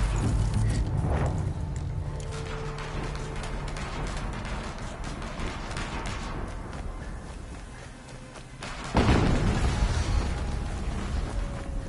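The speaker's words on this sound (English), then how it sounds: "Another explosion." In the video game Horizon Zero Dawn, a sudden heavy explosion bursts out after a stretch of rumbling mechanical noise and scattered clanks, its loud boom trailing off into a sustained roar.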